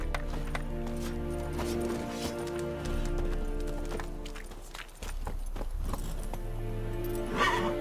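Steady clip-clop of the horse Roach's hooves galloping in The Witcher 3, a continuous drumming rhythm layered over dense game ambience and music, with a brief dip midway.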